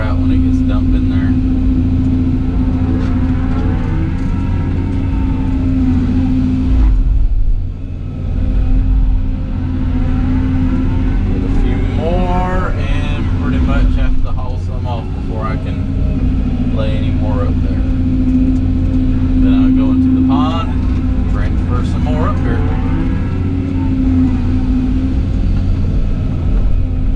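An excavator with a long stick idles and works steadily while dredging a pond, its low engine drone continuous throughout, with someone talking over it.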